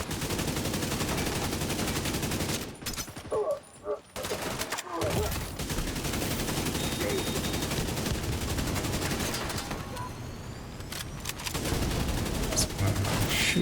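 Video game gunfire, sustained rapid bursts of shooting under a busy battle soundscape, with brief lulls and renewed volleys, fairly loud throughout and a voice talking now and then.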